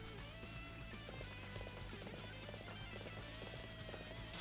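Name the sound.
horse galloping in video game Dynasty Warriors 7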